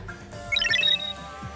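A wall clock alarm rings in a lounge in the video game DanganRonpa 2, a short burst of bright, tinkling electronic tones that swells for about half a second over a low background hum.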